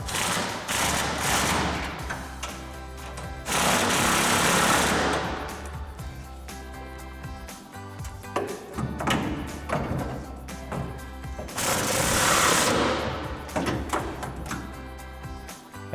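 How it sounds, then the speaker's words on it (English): An impact wrench with a 24mm socket tightens the bolts of a Barricade Extreme HD rear bumper on a 2021-2023 Ford F-150, giving loud, rapid hammering bursts of a few seconds each, separated by quieter clanks and taps. "Now we can take our 24mm socket and tighten down our bumper bolts."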